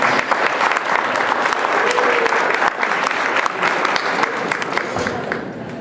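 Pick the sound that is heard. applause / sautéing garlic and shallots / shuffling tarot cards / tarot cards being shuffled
applause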